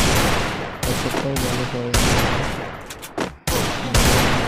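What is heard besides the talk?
gunfire in the video game Free Fire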